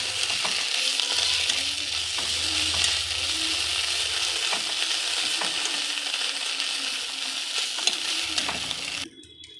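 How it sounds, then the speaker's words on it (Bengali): Food with ground cumin paste fries in a pan while being stirred, with a loud, continuous sizzle and regular close spoon scrapes and taps throughout, and no talking. "এটাকে নাড়াচাড়া করবো।"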